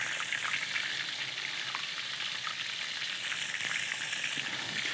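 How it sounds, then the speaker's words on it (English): Oysters bubbling in a deep fryer make a continuous, dense sizzle with fine popping crackles, close and even in loudness throughout. "These are only going to take a couple of minutes in the fryer anyway."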